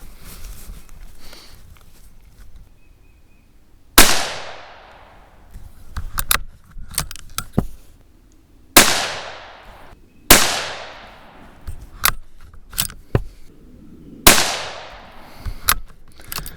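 .17 HMR rifle firing outdoors, four sharp cracks each trailing into a brief decay, spaced a few seconds apart, with small metallic clicks and handling noises between shots.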